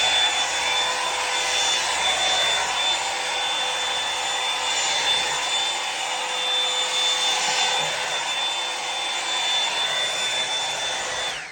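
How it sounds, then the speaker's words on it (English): A Hot Tools blow dry brush roars steadily while drying hair, a loud continuous airy whoosh with a faint high whine, close and unbroken for the whole stretch. "I'm just going to blow dry this real fast, so you're going to see in real time how quick this is"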